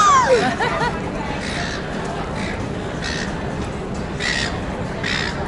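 Gulls squawk and call loudly over an outdoor city crowd in Australia, with a steady babble of voices and people talking underneath throughout.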